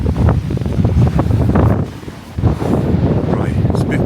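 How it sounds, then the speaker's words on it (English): Wind buffeting a clifftop above the sea, with low rumbling gusts rising and falling across the microphone and faint surf beneath. "it's a bit windy, it's a bit chilly."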